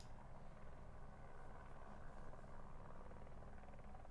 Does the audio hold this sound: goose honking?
no